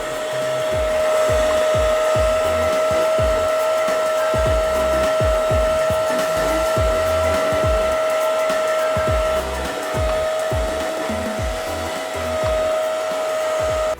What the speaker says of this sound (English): I'm also going to be using the brush tool, which clicks inside here because that brushes the area at the same time as washing it.